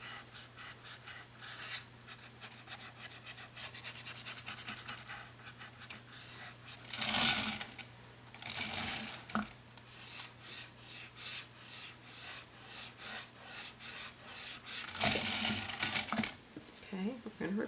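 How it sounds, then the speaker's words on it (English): A dry brush scrubs acrylic paint onto a gingerbread painting, a soft raspy rubbing in repeated strokes, close and fairly quiet, with louder bursts of scrubbing partway through. "We're going to dry brush a highlight first."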